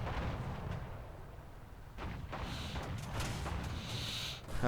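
The heavy cannon of a KV-2 tank firing in War Thunder, a deep explosive boom that rolls on as a rumbling tail, with sharper crack-like impacts following and a rising burst at the end.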